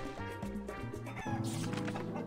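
A chicken clucks in the mobile game Dawn Break: The Flaming Emperor, with quick clucks over game music and a crash-like burst near the end, faint overall.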